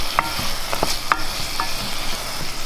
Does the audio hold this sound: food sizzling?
yes